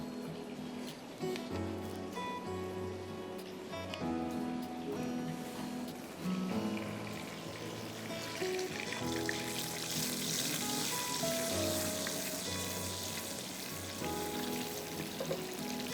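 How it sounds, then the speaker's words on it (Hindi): Blended tomatoes fried with chillies in a pan, a continuous sizzling and bubbling that grows busier and brighter partway through, steady and moderately close with no talking. "उसको हम 1 मिनट के लिए मिर्चियों के साथ फ्राई करेंगे। फिर हम इसमें ब्लेंडेड टोमेटोज़ डाल देंगे।"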